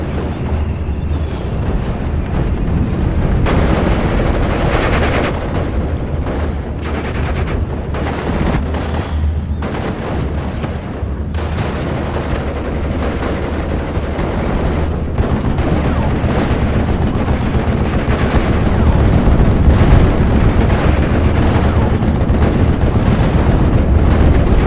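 Heavy battlefield combat in the video game Steel Division: continuous loud gunfire and rumbling artillery explosions, with booming blasts layered over a constant roar that grows stronger toward the end.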